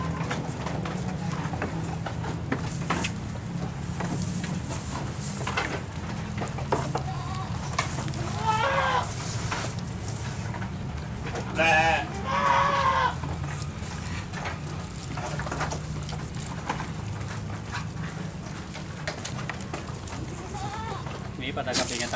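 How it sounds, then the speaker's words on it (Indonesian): Goats bleat in a few short, wavering calls spread through a noisy stretch, with people talking in the background. "Kambing jembel."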